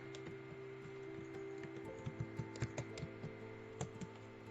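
A database query is typed on a computer keyboard as a faint, uneven run of light key taps over a steady electrical hum and background noise, close but quiet, with no voices.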